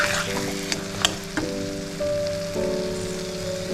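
Sugar stirred into hot ghee for amaranth flour sheera makes a steady crackling sizzle with a few sharp scraping ticks, close and loud, under soft sustained musical tones.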